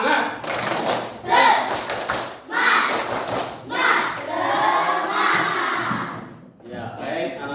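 Schoolchildren in an Indonesian classroom clap together on their teacher's cue, rhythmic bursts of clapping and thumping mixed with shouted chanting and a voice leading them.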